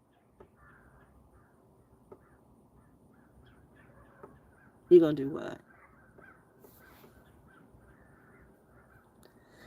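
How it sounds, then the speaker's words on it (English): A short burst of crows cawing rings out from the background midway through. Quiet talk goes on faintly around it. "You hear the crows in the background?"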